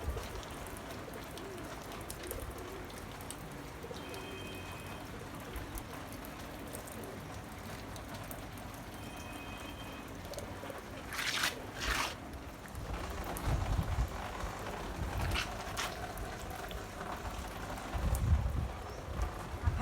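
Steady rain falls over a garden with potted pineapples and vegetables during a strong storm, a soft continuous patter with occasional heavier drips and faint bird calls, with no talk.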